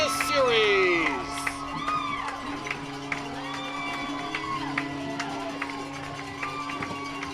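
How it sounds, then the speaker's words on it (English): A baseball stadium crowd at a playoff game between the Toronto Maple Leafs and Barrie Baycats cheers and whoops after the series-clinching out, a loud burst at first that settles into steady distant applause and shouts. "The crowd here at Vintage Throne Stadium on their feet to salute the Barrie Baycats"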